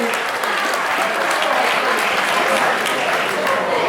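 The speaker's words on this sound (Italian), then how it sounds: "Un applauso." A crowd claps continuously and evenly, a dense steady applause filling the whole stretch without pause.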